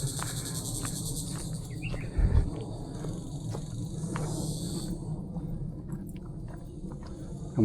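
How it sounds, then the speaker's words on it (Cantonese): Cicadas drone in a steady, high buzzing chorus along a quiet mountain hiking trail in Hong Kong, fading after a few seconds, with faint footsteps and a brief low thump underneath. "幾靜就係聽到蟬聲依家嚇"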